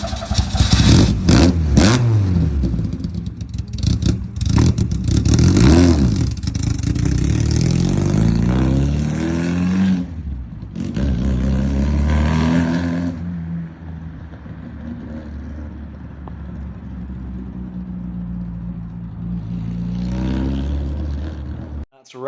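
A Ford 2.0 Pinto engine in an AC Cobra replica roars on a dyno through a long full-throttle run, loud and close with a rising pitch, a brief drop around midway, then steady high revs before cutting off.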